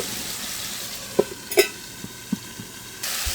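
Stirring shing fish curry with tomato in a pan: a few scraping, knocking strokes of a spoon over a soft continuous sizzle, close by.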